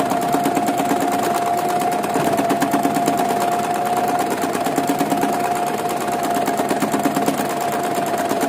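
Singer sewing machine with an embroidery foot stitching free-hand designs on fabric, a fast, steady mechanical whir and needle chatter running continuously up close.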